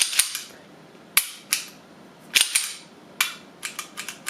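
Sharp mechanical clicks and snaps from a Taurus PT111 Millennium G2 pistol's action catching and hanging up during dry fire, irregularly spaced, some single and some in quick clusters, close and dry with no voices.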